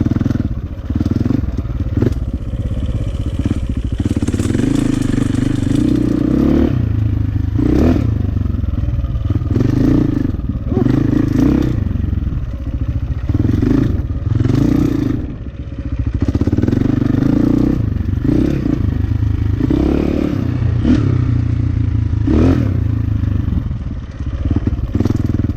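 A KTM 450 EXC dirt bike, ridden in the woods after sitting six years and having its carburetor fixed, gives a steady, loud engine drone with rhythmic throttle surges, rattling chain and clattering over rough ground, close to the rider.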